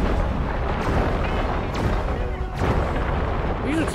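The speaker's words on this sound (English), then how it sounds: "These explosions are quite nice though." Booming explosions in the video game Destroy All Humans! come in a rough dense rumble of blasts and gunfire-like bursts, loud and continuous, with a voice partly mixed in.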